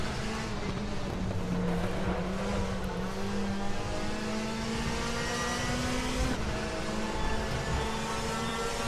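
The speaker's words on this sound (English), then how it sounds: "155 mile an hour corner in a front wheel drive car" Front-wheel-drive Citroen WTCC touring car racing at Macau in RaceRoom Racing Experience, its engine droning loud and steady with rising pitch as it accelerates through a fast corner, no talk over it.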